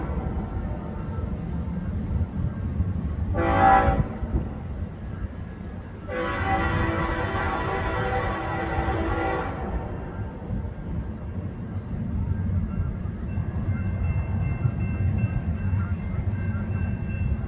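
Freight train led by CN power with a rebuilt NS 7302 locomotive in the second slot, rolling by at Ladysmith; a steady rumble of wheels and cars runs throughout, with two horn-like tonal bursts near the start, and a voice speaks briefly.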